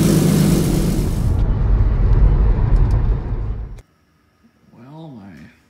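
A car engine runs steadily and loudly at close range with a broad rumble, then cuts out abruptly, after which a voice is heard briefly.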